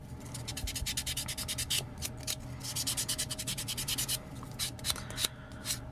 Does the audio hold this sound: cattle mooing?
no